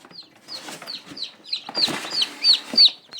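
Newly hatched chicks cheep in an incubator in a rapid series of high, thin peeps, several birds calling over each other, with some faint rustling underneath.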